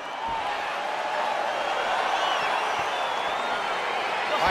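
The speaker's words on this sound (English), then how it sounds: "crowd getting excited as this fight gets underway" Arena crowd at a UFC event cheering as a light heavyweight bout begins, a broad sustained roar of voices with whoops, steady and far-off.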